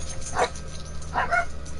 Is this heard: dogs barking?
yes